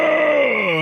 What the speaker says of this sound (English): He was yawning. That raccoon yawned.